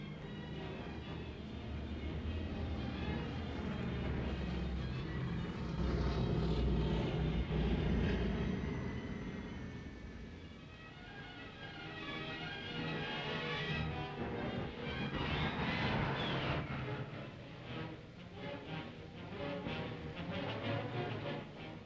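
Propeller aircraft engines of Spanish Civil War planes drone steadily, swelling and easing as they pass, a moderately loud continuous roar with no talk.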